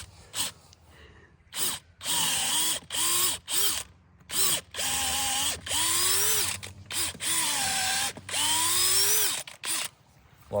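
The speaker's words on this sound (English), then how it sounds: "we'll drill a hole that's almost vertical" A power drill bores a near-vertical hole into a timber post, cutting in repeated loud, close bursts that rise and fall in pitch, separated by short pauses.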